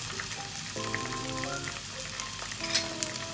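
Onion and mixed peppers sauté with tomato ketchup for chilli paneer, a steady close sizzle running throughout under faint tonal background sounds, with no talking.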